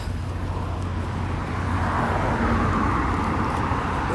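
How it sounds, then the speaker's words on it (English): Steady car traffic rolls past on a road outside during a cloudy-day walk, a continuous loud wash of engine and tire noise with no break. "You can hear the cars and everything outside."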